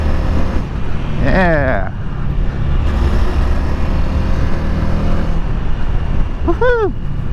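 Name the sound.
Honda Rebel 300 motorcycle engine, rider ripping the throttle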